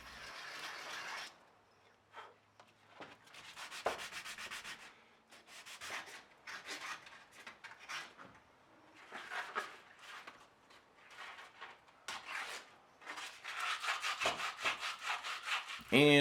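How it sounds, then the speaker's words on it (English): A wooden screwdriver handle is sanded with heavy grit sandpaper to break its corners, giving close, repeated rasping strokes in irregular bursts with short pauses between them, and no talking. "I'll break the corners using heavy grit sandpaper."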